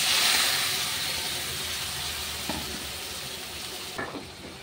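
Tiger prawns sizzling in a hot pan of oil, a steady, loud frying hiss that slowly settles, with a couple of faint clinks and no talking.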